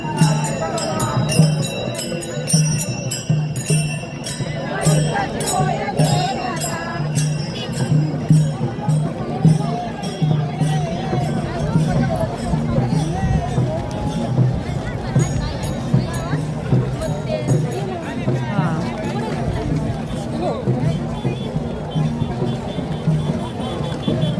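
A crowd of devotees gathers at Saswad, a constant murmur of many voices with bells ringing now and then. Someone talks close over it the whole time.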